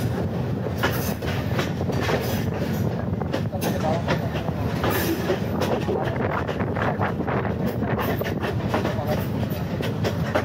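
A local passenger train running from Parbatipur to Ramna Bazar rumbles and clatters along the rails, heard steadily from on board with wind buffeting the microphone throughout.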